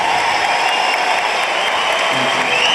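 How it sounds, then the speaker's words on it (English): Crowd applause after a Commonwealth Games men's doubles squash final at Gold Coast 2018, a dense, steady wash of clapping from a large arena audience. "Ladies and gentlemen, give them a big round of applause."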